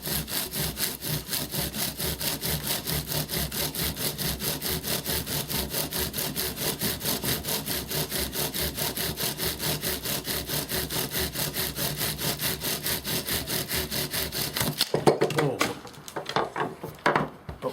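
A wooden hand drill spindle spins back and forth on a wooden fireboard to make a friction fire, giving a steady, fast, rhythmic rasping close up for most of the stretch, then breaking into looser, irregular scrapes near the end.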